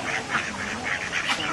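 Ducks quack in a rhythmic series of nasal calls near swans and their cygnets being fed seed, fairly close and repeated several times over a soft outdoor background.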